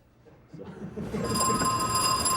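An old-style telephone bell starts ringing in the office of a marine salvage company, rising from a quiet room into a loud, sustained metallic trill that fills the end.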